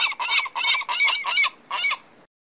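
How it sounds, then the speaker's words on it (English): A gull gives a quick run of six harsh, honking calls, close and loud, with short gaps between them and nothing else behind. "G-U-L-L. Gull."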